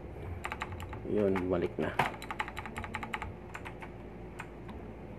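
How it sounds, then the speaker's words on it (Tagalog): Clicky keys on a mechanical keyboard, repaired with contact cleaner, tap out quick irregular strokes close by; someone speaks briefly partway through, then the crisp clicks carry on alone. "bumalik yung click sounds"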